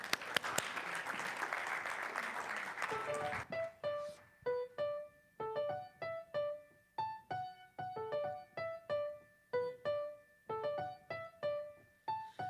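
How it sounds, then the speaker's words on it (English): Applause from an audience at a celebration event as a singer is invited to the stage, heard as a few seconds of dense clapping that then gives way to sung music with rhythmic piano chords. "Let's give him a round of applause."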